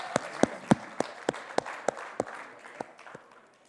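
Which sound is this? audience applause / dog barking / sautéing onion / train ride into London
audience applause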